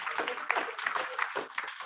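A crowd at a free-wifi launch ceremony at Hermenegilda F. Gloria Memorial Elementary School in Dumaguete City gives a short round of dense, steady hand clapping, close and continuous throughout.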